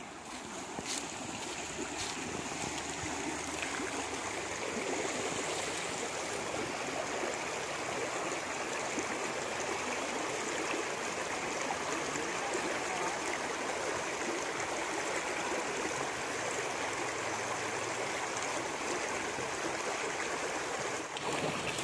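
Water flowing across rocks at the edge of a mountain waterfall, a constant broadband rushing wash, fairly faint and unbroken, with no voices over it.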